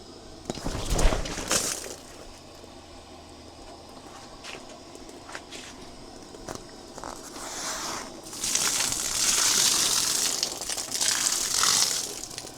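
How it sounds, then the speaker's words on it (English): Water splashing and pouring off a tarp in bursts while camping in a forest, with rustling and shuffling movement between the gushes, fairly close. "So there is some water right there, so I need to dump that out."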